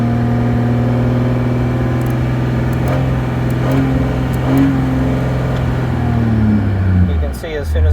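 A Ram Quad Cab pickup's engine is held at full throttle in neutral, a loud steady drone with strong low harmonics that dips and then drops away near the end. Someone talks over it.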